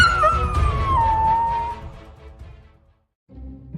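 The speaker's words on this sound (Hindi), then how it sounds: "अरे जल्दी से इस कुत्ते को भगाओ, वरना ये बिल्ली के बच्चों को खा जाएगा।" A dog in a cat cartoon lets out a single long, loud howl that slides downward in pitch and fades out, followed by a brief low rumble.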